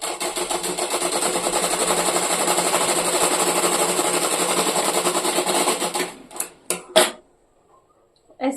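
A sewing machine runs steadily for about six seconds, stitching a blouse lining along the edge with a fast, even needle rattle, then stops and gives a few short bursts and clicks before falling quiet.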